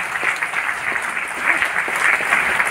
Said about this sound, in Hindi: एक बार मनोज के लिए जोरदार तालियां बजा दें आप